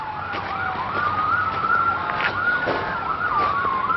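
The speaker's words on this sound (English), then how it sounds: "All the sirens going." Wailing emergency sirens in Calgary during a flood state of emergency rise and fall continuously, several overlapping at moderate distance, with no talking.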